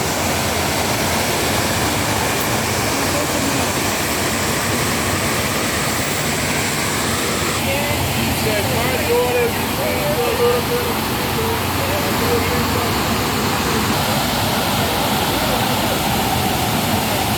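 Steady, loud rush of water falling into the World Trade Center memorial pools in New York fills the whole stretch, a dense roar like a large fountain cascading nearby, with faint voices underneath.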